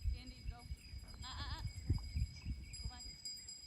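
Sheep bleat in short wavering calls during fence-line herding work near water, a couple of clear bleats over low outdoor rumble and scattered noise.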